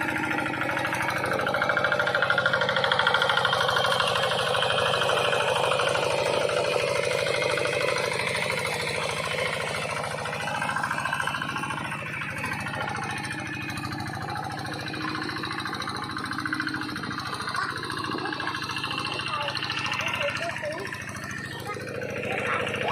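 A modified ride-on tractor built for working rice paddies runs its engine with a steady, mid-pitched chugging throughout. People talk over the engine noise.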